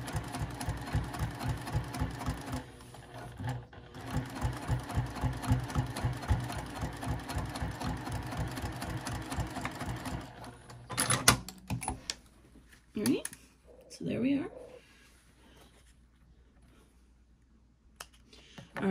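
A sewing machine top stitches through the exterior panel of a small zipper coin and card pouch, running steadily and rhythmically for about ten seconds, then stopping, followed by scattered handling clicks and rustles.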